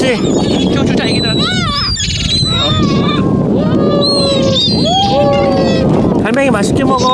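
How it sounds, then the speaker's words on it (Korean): Seagulls, including a brown juvenile, squawking and squealing repeatedly on a tidal mudflat beach, loud and close in overlapping calls over wind noise, with people talking among the birds. "저기 아기 갈매기도 있다"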